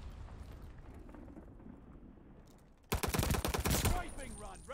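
Sudden loud burst of rapid automatic gunfire in the Call of Duty Vanguard video game, erupting after a quiet stretch of low ambience and lasting about two seconds.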